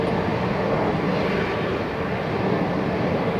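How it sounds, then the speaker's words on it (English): An Airbus A319 arrives at Dublin Airport from Heathrow, a steady, fairly loud engine roar with no voices over it. "The A319 next in from Heathrow."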